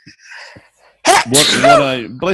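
A single loud, close sneeze bursts out after a quiet moment, followed by a brief bit of speech from the same nearby person.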